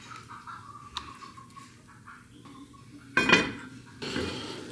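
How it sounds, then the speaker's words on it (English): Sinigang soup being stirred in a pot, with a metal utensil clinking against the pot and a brief cluster of scraping knocks. The sounds are close but fairly quiet over a low background. "Let me stir it a little bit."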